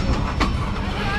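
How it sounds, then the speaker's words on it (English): A train passes at Roots flea market in Manheim Township, Lancaster County, a loud close rumble with a brief rush of noise and rail clatter, partly under a talking voice. "exciting to see the train come here at Roots in beautiful Manheim Township, Lancaster County."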